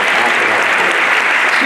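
Loud, dense applause from a seated audience at a youth meeting, continuous throughout with no gaps.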